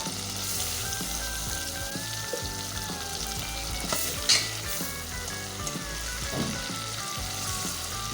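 Cauliflower hitting hot masala in a pan for Punjabi aloo gobi, a steady crackling sizzle and frying hiss with occasional stirring clanks and scrapes, loud and close with no talk.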